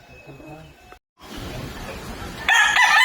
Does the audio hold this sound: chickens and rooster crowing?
yes